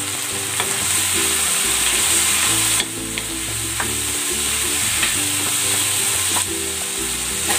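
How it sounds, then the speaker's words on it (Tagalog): Sliced carrots sizzle and fry in a hot pan while being stirred for a bean sprout dish, a steady loud crackle broken by scraping stirs and a few clinks of the utensil. "Lalagay ko na tong carrots."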